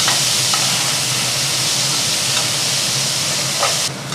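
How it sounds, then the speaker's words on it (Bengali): Salted, turmeric-coated eggplant pieces frying in a pan: a loud, continuous sizzle with bubbling hiss close by, faint stirring clicks, easing slightly at the very end. "এবার আমি বেগুনগুলো দিয়ে দিচ্ছি এবার বেগুনগুলো আমি একটু ভেজে নেব"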